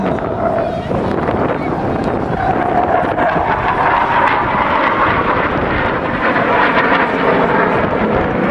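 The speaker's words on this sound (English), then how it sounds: "here we are, coming around the corner, ladies and gentlemen, the Saab 35 Draken, flown by Captain Lars Martinsson" A Saab 35 Draken jet fighter flies past at a beach air show in Ayr, Scotland, with afterburner on, a loud continuous roar mixed with heavy wind noise on the microphone and no clear speech.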